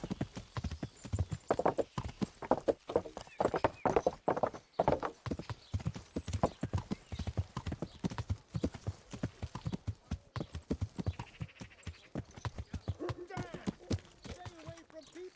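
A horse gallops in Kingdom Come: Deliverance, its dense rhythmic hoofbeats running throughout, with a voice and a short whinny-like cry showing faintly over the pounding toward the end.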